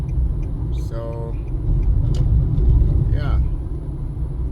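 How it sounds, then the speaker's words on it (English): Low rumbling road noise from inside a moving car on a New Zealand state highway, with a steady drone of tires and engine and occasional brief tones, while a person talks over it. "so there's a bit of traffic"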